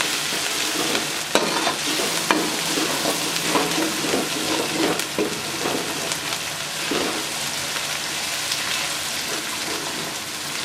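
Green chillies fry in hot oil with ginger and garlic, a steady close sizzle with occasional stirring clicks and crackles throughout.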